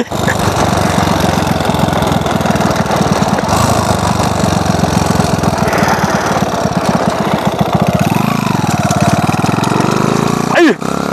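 Honda Wave 110i motorcycle, a stripped frame-only bike in rough condition, its small engine revving loudly and steadily with a rapid chugging throb, rising briefly near the end; someone talks over it at moments.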